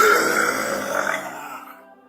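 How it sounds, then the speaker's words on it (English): A single long, loud burp, close by, with a rough voiced drone that holds steady before slowly fading out over about two seconds. "And nobody wants those burps"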